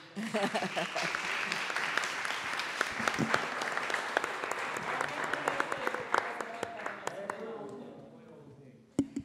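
A room full of people applauds steadily for several seconds, dense clapping with a few sharper claps standing out, tapering off near the end.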